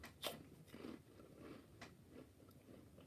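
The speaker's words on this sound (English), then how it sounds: "Sorry, but you're going to have to put up with me munching." A person munching food close to the microphone: soft crunching and chewing bites in an irregular rhythm, quiet and intimate with no talking.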